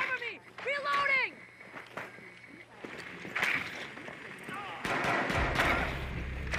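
In the tactical shooter Rainbow Six Siege, gunfire crackles in sharp bursts of shots, with short volleys near the middle and a denser stretch toward the end. Earlier, whistling, sweeping game effects sound, and voices talk over the action.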